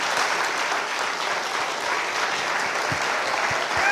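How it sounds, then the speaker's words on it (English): An audience applauds at a ceremony honoring Dr. Monicah Juma, a dense, sustained roar of many clapping hands that holds steady and loud from start to finish. "Let us give Daktari a round of applause until she gets to where she is"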